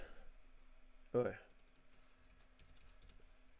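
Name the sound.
typing a project name on a computer keyboard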